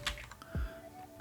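Computer keyboard typing at a command prompt: a few quick, soft key clicks in a brief burst, faint and close, with no voices.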